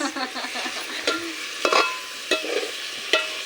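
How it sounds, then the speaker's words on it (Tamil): Chicken curry masala stirred and sautéed in a pan for chicken kulambu, with a steady frying sizzle and several sharp scraping clacks of a spoon against the pan. "நல்லா வதக்கி விட்டுட்டே இருக்கணும் ஃப்ரெண்ட்ஸ்"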